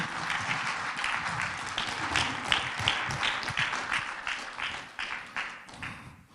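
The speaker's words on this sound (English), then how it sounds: "let's give a great big round of applause for Ramon Sanchez" Loud, dense applause from a crowd at a live show, sustained with lively clapping before gradually thinning and fading toward the end.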